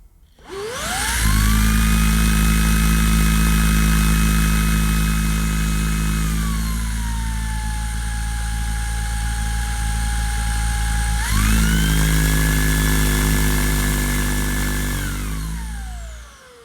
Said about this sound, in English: When I first switch on the Shark Stratos, the cleaner will automatically go into clean sense mode